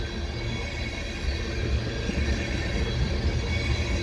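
Snow-covered cars of a westbound CP freight train roll through Cedar Park EXO station in winter, giving a steady, close, heavy rumble that carries on without a break.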